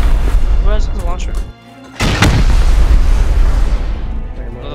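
Rocket-launcher rocket exploding in the survival game Rust during a raid, a loud deep boom that erupts after a brief lull and rumbles on, with players talking before and through it.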